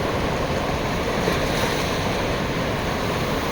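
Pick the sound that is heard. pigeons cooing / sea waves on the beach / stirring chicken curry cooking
sea waves on the beach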